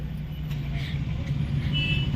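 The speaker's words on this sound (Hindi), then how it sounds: "कहीं से बस आ जा रही है, कहीं से गाड़ी आ जा रही है" Heavy market traffic jam with buses and cars, a steady low roadway rumble of idling and creeping vehicles throughout, with a brief higher squeal near the end and a person talking over it.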